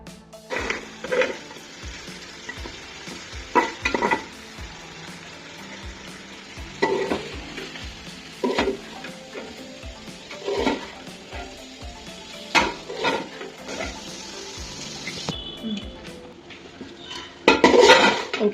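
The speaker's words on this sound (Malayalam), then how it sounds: "ഫ്രൈ ചെയ്ത അണിയൻസ് കുറച്ച് കയ്യിലെടുത്ത് ജസ്റ്റ് ഒന്ന് പൊടിച്ചിട്ട് ആ ചിക്കനിലേക്ക് ആഡ് ചെയ്ത് ഇട്ട് കൊടുക്കുക" Chicken being stirred with crushed fried onions in a pan for biryani: repeated scraping and clinking strokes of a utensil against the pot over a low sizzle, in irregular bursts with quieter gaps, no voices.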